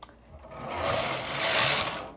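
A knitting machine carriage slides across the needle bed with a steady mechanical whirr and rattle that swells and fades over about two seconds, close and fairly loud, without talk.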